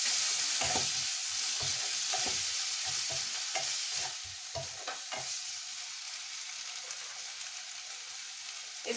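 Potatoes sizzle and crackle in a pan with freshly added tomato puree and rock salt, with a cluster of stirring scrapes and taps early on, then a quieter, steady fry.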